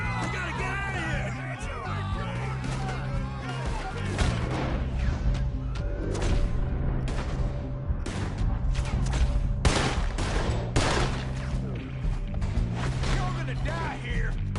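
Frantic Red Dead Redemption 2 shootout, with repeated sharp gunshots cracking in rapid bursts amid shouting voices and game music, loud and close throughout.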